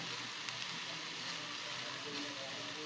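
A jaggery mixture sautéing in a pan gives a soft, steady sizzle with faint crackles, even and continuous throughout, fairly quiet, with no talking.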